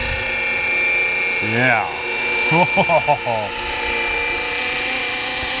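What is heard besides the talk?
large RC model helicopter flying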